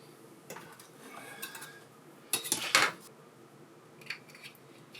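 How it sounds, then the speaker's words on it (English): A metal baking tray is picked up and handled in a home kitchen while making Christmas butter cookies, giving a short cluster of close clanks and scrapes midway, with lighter taps before and after in a quiet room. "I'm gonna get my tray."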